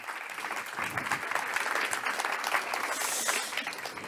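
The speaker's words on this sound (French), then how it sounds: "Je vous demande d'applaudir, d'accueillir Evelyne Delia qui nous rejoint." Steady applause from a conference audience at a colloquium welcoming TV weather presenter Evelyne Dhéliat, a moderately loud, even wash of many hands clapping without a break.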